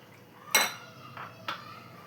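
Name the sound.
mixing boiled milk into cocoa biscuit mixture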